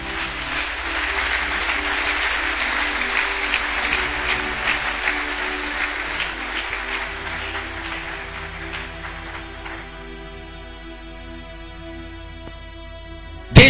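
A church convention congregation applauds, a dense sustained clapping that fills the hall, gradually thinning and fading before a brief loud burst at the very end.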